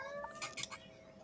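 A cat gives a faint, brief meow or two, quiet and close-sounding against a soft, steady background hum.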